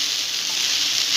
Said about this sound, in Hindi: अब इसको हम मिक्स करेंगे नीचे से ऊपर की ओर